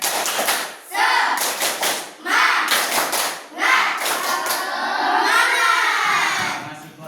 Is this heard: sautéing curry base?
no